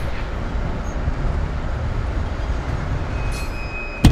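A train runs along the rails with a steady low rumble and rolling hiss from inside the carriage, continuous and moderately loud, with a faint high whine near the end.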